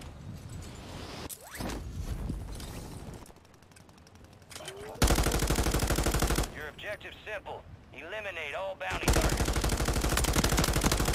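Rapid gunfire in Call of Duty Warzone, with loud sustained automatic bursts broken by short quieter gaps, and players talking over parts of it.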